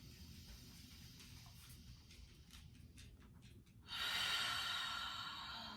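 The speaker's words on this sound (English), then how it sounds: "1 more big breath in" A deep breath drawn in through the nose during a gentle yoga neck stretch, a soft airy inhale that swells after a few faint shuffles, close and quiet, with no talk.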